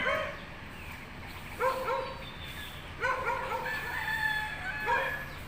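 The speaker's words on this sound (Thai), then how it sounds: "น้องหมานี่ก็เห่าจริง" A dog barks several times in short, spaced bursts at a hilltop temple on Khao Wang in Ratchaburi at about 6:30 on a cool morning, sounding moderately distant over steady outdoor background noise. A rooster may be crowing in the mix.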